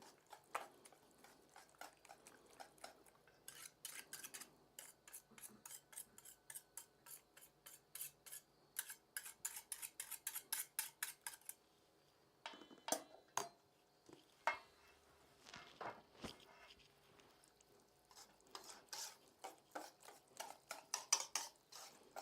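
Ingredients being mixed together in a bowl, with repeated quiet scraping and clinking strokes in steady rhythmic runs, a brief pause around the middle, then more scattered strokes. The sound is faint and close, with no talking.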